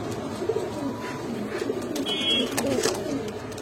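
A pair of pigeons coos in repeated soft, throaty bursts, about three calls spaced roughly a second apart, close by over a steady background hiss.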